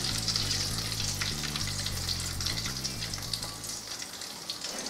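Potato croquettes stuffed with cheese and ham frying in oil: a dense, close bubbling sizzle that stays steady throughout, with a light musical backing and no speech.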